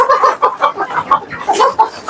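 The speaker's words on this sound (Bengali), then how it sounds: "এখানে অস্ট্রেলিয়া মুরগি গুলো আমি এখন খাবার দিলে সব সঙ্গে চলে আসবে" Australorp chickens on a farm clucking as they gather for food, a quick run of close, loud, repeated clucks over about two seconds.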